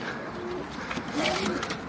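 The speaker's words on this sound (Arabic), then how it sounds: "جايبين النهارده حبه حمام جديد هنفرجكم عليه" Pigeons cooing softly in a loft, newly bought birds among the flock, with low murmuring coos and a few faint chirps spread through the short stretch, fairly close and steady.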